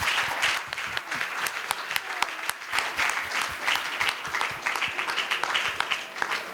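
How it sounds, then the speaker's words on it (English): Sustained applause from an audience at an awards summit in Ghana, steady dense clapping throughout with a few sharper individual claps standing out. "Everyone give Gifty a big round of applause."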